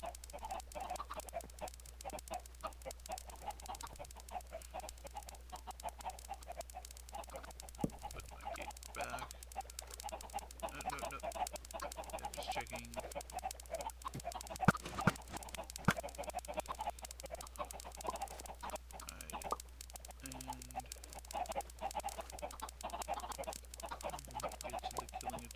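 Chickens in a Minecraft automatic chicken farm cluck and squawk steadily throughout, a dense game-audio flock sounding moderately loud and continuous with occasional sharper calls.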